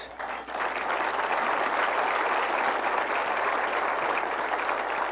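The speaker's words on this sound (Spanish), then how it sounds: "Si va a aplaudir, aplauda con ganas" A church congregation bursts into vigorous applause during a Spanish-language sermon, a thick, continuous wash of many hands clapping that stays loud and even after a brief quieter start.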